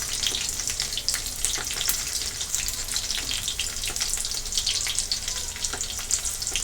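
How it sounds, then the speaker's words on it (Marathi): Crushed garlic frying in hot oil, a dense bright crackling hiss that holds steady throughout with small pops scattered across it, heard close with no speech. "मी ठेचलेलं लसूण आहे हा टाकून घेते याच्यामध्ये परतून घेणार आहोत तेलामध्ये आपण"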